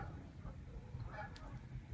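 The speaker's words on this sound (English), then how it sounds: "I do hear some Canadian geese." Faint, distant honking of Canada geese over a low outdoor rumble, a few soft calls drifting in and out.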